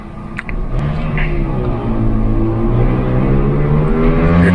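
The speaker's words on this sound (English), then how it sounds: "The engine is on due to outside air temperature" A 2024 Ford Bronco's engine running steadily while driving, a low droning hum that rises gently in pitch as the vehicle accelerates, heard from inside the cabin, continuous and fairly loud.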